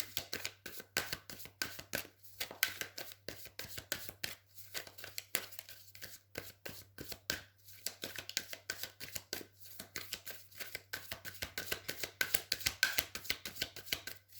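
Tarot cards being cut and laid down produce a long run of quick, crisp snaps and papery slaps, closely miked and steady in rhythm, with no talking.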